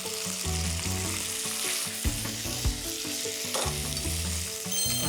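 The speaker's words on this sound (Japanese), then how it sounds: "ベーコンから油出始めたらスナップエンドウ入れます。" Bacon and snap peas sizzle steadily in olive oil in a frying pan, a continuous close frying hiss with occasional stirring scrapes and no talking.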